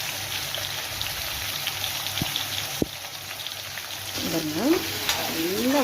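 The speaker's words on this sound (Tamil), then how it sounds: "நல்லா வதங்கணும்." Shallots and tomato sautéing in hot oil for kara kuzhambu, a soft steady sizzle with a few sharp clicks and stirring scrapes, quiet and close, with brief faint voice-like sounds toward the end.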